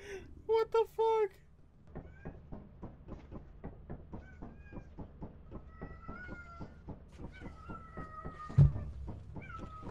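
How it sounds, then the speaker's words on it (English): A cat lets out three quick, loud, tonal meows near the start, then quieter repeated calls continue under a rapid rhythmic pulsing background with faint thumps. "Your cat's going crazy."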